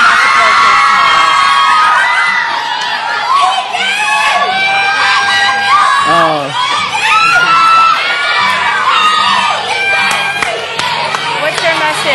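A studio audience cheers, whoops and shouts loudly and continuously, a dense crowd roar with children's voices mixed in, with no break throughout.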